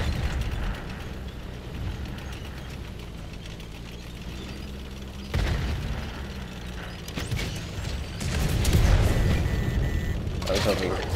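In a tank video game, cannon fire from a T-54-era tank hits as heavy booms over a rumbling engine bed, with a sharp blast near the middle and a louder, denser burst of impacts and crackle toward the end.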